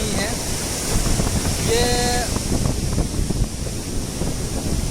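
Sea waves washing ashore in steady, broadband surf noise with some wind buffeting, continuous and fairly loud, while someone speaks over it.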